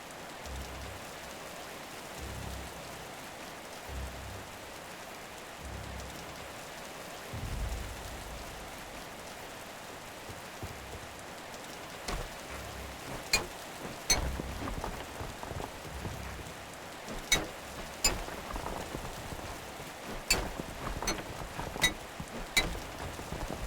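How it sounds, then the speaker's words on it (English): Rain falls in the video game Conan Exiles, heard from underground as a faint, steady hiss with muffled low rumbles early on and a few sharp ticks of drops later. "That's some crazy loud rain if I can hear it all the way underground."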